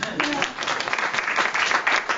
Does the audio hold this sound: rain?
no